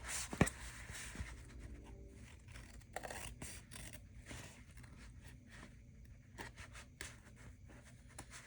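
Scissors snip and scrape through paper while a ledger journal is cut out, with faint, intermittent crisp cuts and rustling close by in a quiet room.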